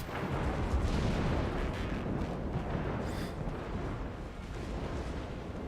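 Battleship main guns fire in the naval combat game World of Warships, a dense, continuous roar of heavy booms and rumbling blasts with no voices.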